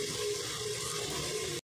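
Water runs steadily into a pot under a metal plate from close range, a full gushing pour that stops abruptly.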